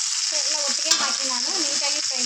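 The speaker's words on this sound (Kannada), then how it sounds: "ಎಲ್ಲವನ್ನು ನಾನು ಫಸ್ಟ್ ಎಣ್ಣೆಯಲ್ಲಿ ಹುರ್ಕೋತೀನಿ" Whole spices frying in oil for a mutton sambar, a steady bright sizzle with soft stirring and a faint background voice-like hum, close and continuous for a couple of seconds.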